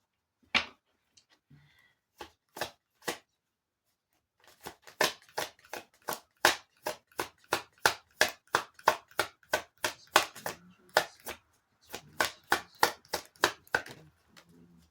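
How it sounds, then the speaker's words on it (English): Tarot cards being shuffled: a few isolated riffles, then a long run of rapid, crisp, evenly spaced slaps and flicks, close and dry with no talking. "Just going to shuffle the cards and see what comes up."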